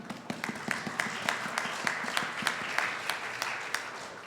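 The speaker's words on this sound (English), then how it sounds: "Let's give her nice applause for beautiful Santur playing." Warm audience applause at Temple Aliyah after a santur performance, a blend of many hands with a few louder, closer individual claps standing out steadily throughout.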